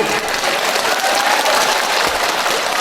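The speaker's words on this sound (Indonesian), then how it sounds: "tepuk tangan dulu." Crowd applause at a gathering of laid-off workers, dense steady clapping from many hands filling the whole stretch at fairly loud volume, with no speech over it.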